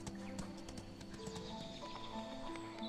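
Hooves drum steadily and close as a horse gallops across the map in the Ostwind video game, with a soft musical tone running beneath the beat.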